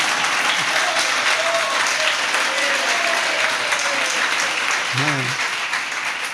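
An audience at a Jain religious discourse claps in a steady, continuous wash of applause, while a voice speaks briefly over it.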